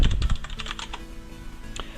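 Rapid typing on a computer keyboard while renaming a clip in After Effects, a quick flurry of close, crisp key clicks that slows and tapers off to a few scattered taps.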